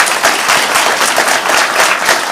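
A luncheon audience claps together in a dense, continuous burst of applause, loud and close, filling the whole short stretch without any speech over it.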